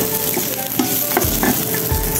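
Garlic and onion sizzle steadily in a hot pan, with a constant frying hiss and a few short scraping stirs of the utensil, close and alone without talk.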